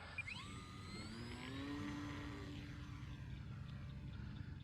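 The electric motor of an FGFRC Carbon Cub S2 RC plane on a 3S battery hums steadily and close. It runs alone with a whine that rises and falls in pitch.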